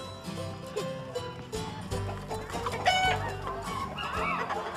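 A person imitates a chicken's clucking at a fair, a run of busy, choppy vocal clucks and squawks over a noisy crowd with other animal and background sounds.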